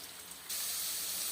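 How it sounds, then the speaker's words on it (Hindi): Onion, green chili and tomato frying in oil in a frying pan, a quiet sizzle that jumps into a louder, steady hiss halfway through. "सबसे पहले हमने इसमें प्याज और हरी मिर्च टमाटर डाल दिए हैं फ्राई पैन में, और ऑयल भी डाल दिया है।"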